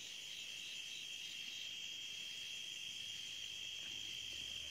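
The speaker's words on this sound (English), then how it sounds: "I like the outside, and I hear the crickets." Steady, continuous insect chirring outdoors, a constant high-pitched drone with no voices, faint and unbroken throughout.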